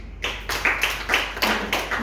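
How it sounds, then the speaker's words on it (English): Scattered audience members clap in a short, uneven burst to welcome panelists at a sickle cell and mental health panel session, each clap close and distinct with brief gaps between. "please let's clap for them, welcome them"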